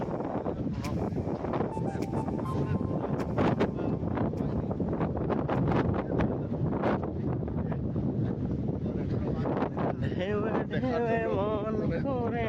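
Strong wind roars and buffets the microphone without pause, a heavy rushing noise beside the Arabian Sea at Al Khobar, Saudi Arabia, with voices faintly audible beneath it.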